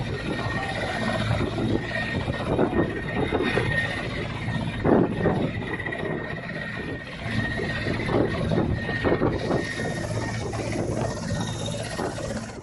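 An army rescue helicopter flies over flooded Hooghly, its rotor producing a steady, continuous mechanical chopping roar that stays loud throughout with no voices.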